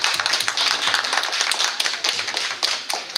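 An audience applauds the guest of honour at a National Rally galette des rois gathering in Nantes, producing loud, close, dense clapping with irregular sharp hand strikes throughout.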